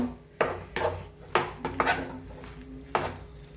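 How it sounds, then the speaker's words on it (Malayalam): Tapioca and egg stirred and mixed in a pan for a Thrissur dish, several sharp scrapes and knocks of a spoon against the pan at an uneven pace, close and alone. "ഇനി നമുക്ക് ഇതൊക്കെ ഒന്ന് ഇളക്കി മിക്സ് ചെയ്ത് കൊടുക്കണം കേട്ടോ"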